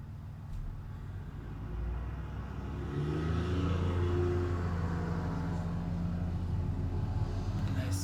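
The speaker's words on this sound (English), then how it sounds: "As soon as I open the window, a truck goes by" A truck rumbles past outside an open window, its low engine drone swelling and holding steady as it goes by, with a faint voice underneath.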